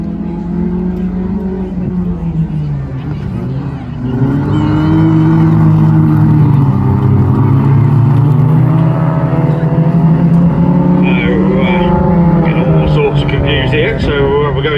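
Stock hatchback race cars roar along the track at a Ladies and Juniors Nationals stockhatch event, loud overlapping engine drones rising and falling as they pass, with a commentator talking over the noise throughout.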